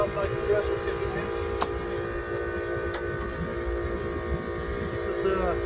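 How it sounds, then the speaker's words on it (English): Air compressor kicking on to inflate a low tire, a steady droning hum with tonal bands, close by and constant, with faint clicks and a voice speaking over it. "That noise you're hearing there now is my compressor kicking in."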